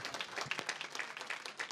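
An indoor audience at an awards ceremony claps continuously, a soft, fairly distant patter of many hands at an even density throughout.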